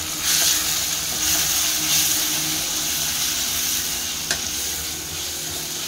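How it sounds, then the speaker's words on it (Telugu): Chopped tomatoes stirred into frying mutton in a hot pan, with a dense, continuous close sizzle, steady throughout, and a single sharp utensil tap near the end. "ఇప్పుడు టమాటా వేసుకుందామండి. వేసుకొని కలుపుకోవాలి."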